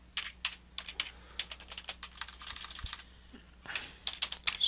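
Fingers type on a computer keyboard in quick, irregular bursts of close, crisp key clicks, with a short pause before a final flurry.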